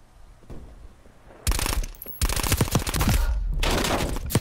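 Call of Duty Black Ops Cold War gunfire comes in loud, close automatic bursts of rapid shots separated by short pauses, with faint quieter game sounds before the first burst.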